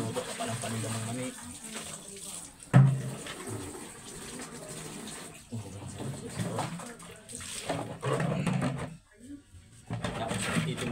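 Peanuts are washed by hand in water, with splashing, swishing and pouring running through the scene, a few knocks and pauses, and voices talking alongside.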